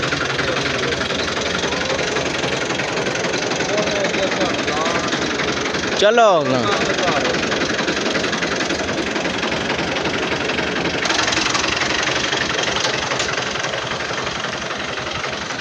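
A tractor engine runs steadily throughout, a continuous close rumble with a brief rattling surge midway and someone speaking over it.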